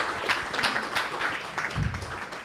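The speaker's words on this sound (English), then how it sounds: "Big round of applause again for GlucoFlow Coach." Audience applause at a hackathon demo session, a moderate wash of clapping lasting a couple of seconds, fairly steady, heard from within the room.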